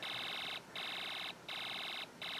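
Snap Circuits alarm IC from an Elenco electronics kit sounding a loud, steady electronic tone in repeating bursts, each about half a second long and separated by brief gaps, with no voices present.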